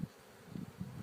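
Honeybees buzz at a hive nucleus being inspected on a farm, a faint low drone with a few swelling pulses as bees pass close, no voices.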